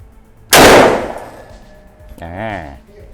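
A Khan Arms MLT 12 shotgun fires a single sharp, loud blast at close range, whose echo fades before someone speaks briefly.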